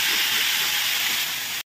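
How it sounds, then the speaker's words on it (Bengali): Chopped onion drops into hot oil left over from frying potatoes, giving a loud, dense, close sizzling hiss that holds steady and then cuts off abruptly. "ওই তেলেই আমি দিয়ে দেবো কুচানো পেঁয়াজ"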